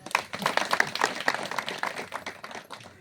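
Audience clapping at a Kannada religious discourse on Basavanna: a brief burst of scattered hand claps with sharp individual strikes, fairly close, quickly thinning out and fading over a few seconds, with no voices over it.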